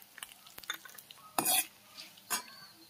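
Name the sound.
green chillies and cumin seeds frying in oil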